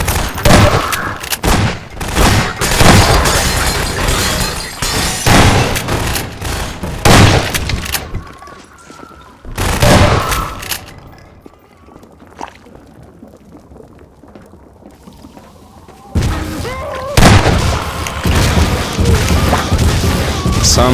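Rapid turret gunfire in Half-Life 2: Episode Two, three automated guns firing on zombies, comes as loud repeated bursts that drop away to a quieter lull mid-clip before the shooting resumes.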